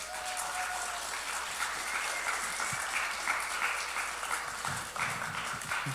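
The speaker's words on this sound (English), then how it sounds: "Give her a round of applause." An audience claps and applauds at an evening church-style gathering, a steady dense wash of many hands held at even loudness throughout.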